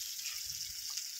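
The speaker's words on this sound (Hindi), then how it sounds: "ये रेन गन है इसकी 50-60 फुट की ठेंग है पानी की दूरी" A rain gun spraying water with a 50-60 foot throw: a brief hissing spray of water, bright and continuous, with a faint low gurgle beneath.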